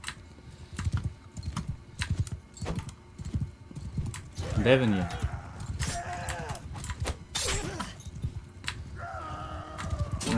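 Horse hooves clatter in a steady galloping clip-clop rhythm in the video game Mount and Blade 2, running under frequent talk with a brief whinny-like tone midway.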